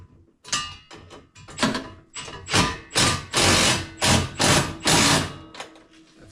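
An impact wrench fastening a rear rack on a Kawasaki Ridge ATV, giving loud, close, rapid hammering bursts in a choppy, pulsing rhythm that runs for several seconds without talk.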